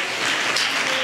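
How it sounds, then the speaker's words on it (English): A school audience at the Sanfest primary prelims in Trinidad and Tobago applauds the performers, a brief dense wash of clapping that fills the room evenly. "Let us give them another round of applause."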